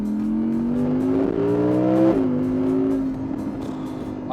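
An Audi R8 Performance Spyder's engine revs loudly and close by, its pitch climbing in steady steps before dropping off and settling into a sustained, slightly falling drone.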